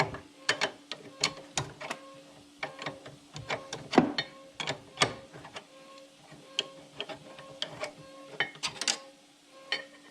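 Rapid metallic clicks and ratcheting taps ring out in quick irregular bursts as a wrench and Allen key work a brake caliper bolt loose on a C4 Corvette, close and crisp, with no talking.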